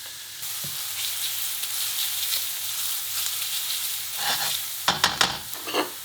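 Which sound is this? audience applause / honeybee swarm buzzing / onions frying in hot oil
onions frying in hot oil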